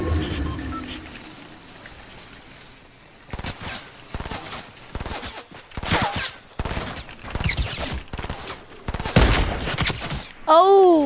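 Bursts of rapid gunfire from a Fortnite match crackle in dense, loud volleys, with a rising electronic game effect closing out the sequence.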